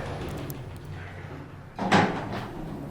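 An Otis Gen2 machine-room-less traction elevator door slides open with one clear rumbling swoosh after a quiet hum, close and moderately loud.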